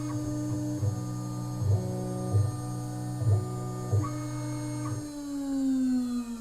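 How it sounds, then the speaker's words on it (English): A CNC router spindle runs while finishing a cut, a steady tonal whine with regular periodic throbbing bursts, then the pitch drops as the spindle slows near the end. "Get the spindle up to speed, or turn your router back on in case you have a router, and it will finish that cut"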